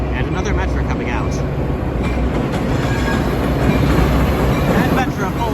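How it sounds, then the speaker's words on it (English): A Metra commuter train rumbles past on Chicago's Roosevelt Road line, loud and close, with heavy low rolling noise, clickety-clack wheel beats and brief squeals, while someone talks over it. "Another Metra coming out."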